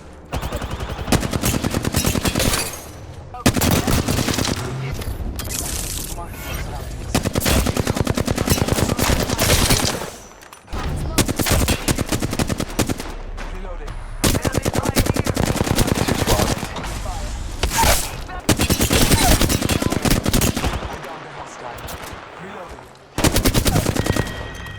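Flatline assault rifle in the video game Apex Legends, loud sustained bursts of rapid automatic fire separated by short pauses, with other game sounds between the volleys.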